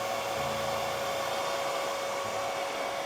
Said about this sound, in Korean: 드라이기 약한 열로